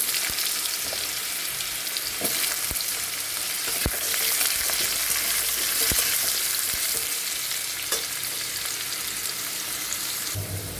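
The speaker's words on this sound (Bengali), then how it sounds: "আলুগুলো ভাজা হয়ে গেছে" Potatoes fry in hot oil for Bengali dhokar dalna, a steady close sizzle with occasional sharp crackles and a brief stir, with no talking.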